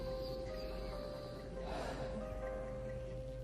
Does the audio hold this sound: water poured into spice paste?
no